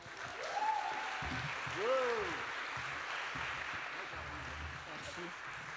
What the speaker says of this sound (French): je vais vous demander de faire un tonnerre d'applaudissements